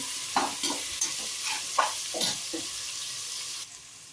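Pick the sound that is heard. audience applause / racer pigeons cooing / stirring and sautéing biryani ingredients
stirring and sautéing biryani ingredients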